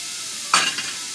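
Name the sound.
chopped onion added to hot pan for crawfish pie, sizzling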